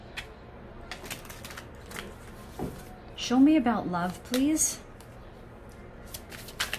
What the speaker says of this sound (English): they want me to shuffle once here